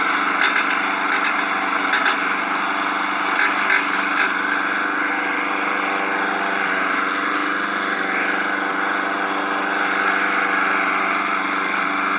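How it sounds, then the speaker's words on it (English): A lawn mower with a bent blade runs steadily at close range, a constant droning engine hum with a faint rattle and no pauses. "Not bad for a lawnmower with a bent up blade."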